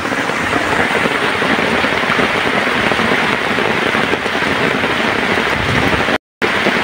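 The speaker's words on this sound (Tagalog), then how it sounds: "todo ang ulan po rito sa fishing spot" Steady, heavy rain pours down at a fishing spot on Botocan Dam with a dense, hissing roar, loud and unbroken apart from a brief gap near the end.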